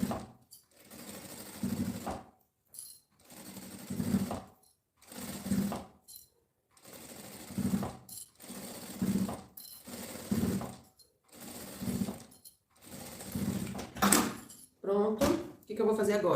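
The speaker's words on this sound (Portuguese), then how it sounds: "Vou costurar na pontinha pra fixar todos esses tirantes aqui." A sewing machine stitches fabric straps at their ends in roughly nine short, loud whirring bursts separated by brief pauses, ending in a few quicker stitches.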